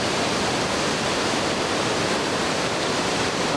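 Water surging down a fish path at a river weir during a summer flush, a steady, dense roar of rushing flow that holds constant and loud throughout with no voices.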